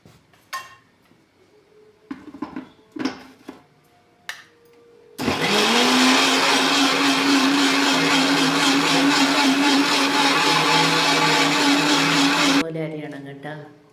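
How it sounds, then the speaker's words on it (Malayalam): A kitchen mixer grinder blends sour curd with green chillies and garlic, roaring loud and steady for about seven seconds before winding down. Brief clatters and handling sounds come before it starts. "എല്ലാം കൂടി അരച്ചെടുക്കട്ടെ കേട്ടോ."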